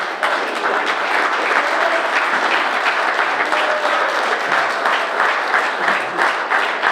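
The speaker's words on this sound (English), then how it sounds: "Here we go, just a round of applause." Audience applause at a wrestling hall of fame dinner, continuous clapping from a room of guests, loud and steady throughout with no speech over it.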